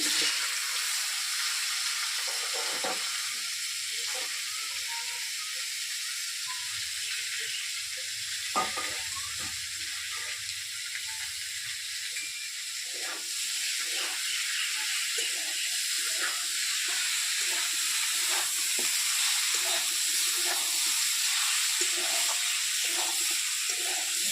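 Frying in hot oil for a jackfruit-prawn curry, a loud continuous hiss and sizzle held steady throughout, close up, with faint stirring scrapes underneath and no voices.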